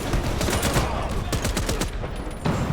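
Automatic machine-gun fire from the online shooter game Warface rattles out in loud, rapid bursts with brief pauses between volleys.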